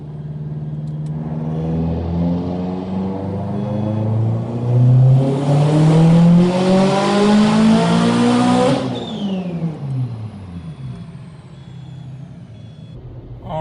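Turbocharged Mitsubishi Evo X with a Garrett GTX3582 turbo on a dyno, engine at high boost rising in pitch through one long, loud wide-open pull before lifting off and winding down.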